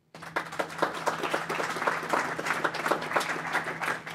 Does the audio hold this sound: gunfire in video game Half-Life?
no